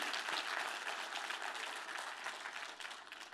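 Church congregation applause fills the space with dense, continuous clapping and acclamation, steady and moderately distant, with no voices standing out.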